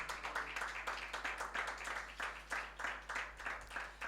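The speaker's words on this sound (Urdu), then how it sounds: "یسوع مسیح کے لیے زوردار تالیاں بجائیں." A church congregation at a Sunday service claps in a steady, rhythmic beat, faint and somewhat distant over a low electrical hum.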